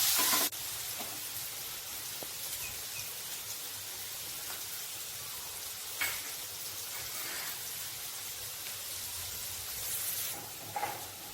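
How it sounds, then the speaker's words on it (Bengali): Onion, garlic and ginger paste is poured into hot oil with fried cumin and sizzles in a bright, steady hiss, with a few louder spatters near the middle and end. "এর মধ্যে এবার ঢেলে দেবো আগে থেকে তৈরি করা পেঁয়াজ, রসুন, আদা পেস্টটা।"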